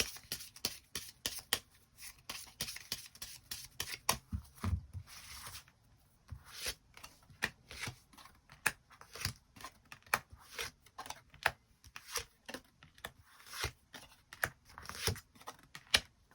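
Tarot cards are shuffled and drawn close to the mic, a quiet run of crisp flicks, riffles and taps with short pauses, faint and alone.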